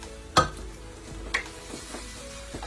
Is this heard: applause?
no